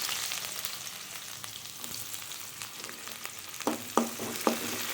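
Onion fries with mustard seeds, urad dal and cumin in oil for a greens and dal kootu, making a continuous crackling sizzle, with a few spoon knocks against the pan near the end.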